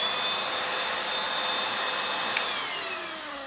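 Silvercrest Lidl cordless cyclone stick vacuum cleaner running, a loud steady high-pitched motor whine with airy rushing, close up, its pitch shifting slightly and easing off near the end.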